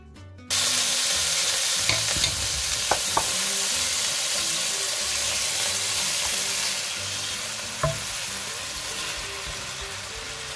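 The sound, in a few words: chicken, spices, onion and chopped mushrooms frying in a pan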